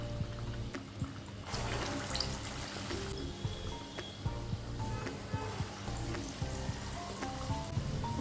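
Medu vada, a ring of urad dal batter, frying in a pan of hot oil, with a steady crackling sizzle and small bubbling pops throughout, fairly close and continuous.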